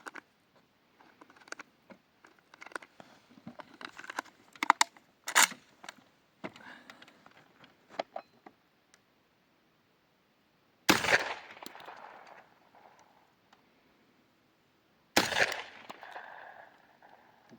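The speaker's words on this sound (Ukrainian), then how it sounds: "Пробуємо робити також 5 пострілів, насадка циліндр." Scattered small ticks and clatter, then two loud, sharp 12-gauge shotgun blasts firing Brenneke-type slugs through a cylinder choke, several seconds apart, each followed by a brief rumbling echo.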